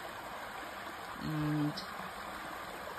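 Creek water flowing steadily beneath a road bridge at Alley Creek, a continuous soft wash close by with a brief spoken word partway through.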